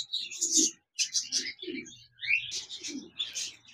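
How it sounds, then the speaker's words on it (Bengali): Budgerigars in a cage give a pair of big-sized birds' chirps and twittering calls, fairly close, in short bursts with brief gaps, alone without talk. "বাজরিগার পাখি রয়েছে, চমৎকার পেয়ার, বিগ সাইজের"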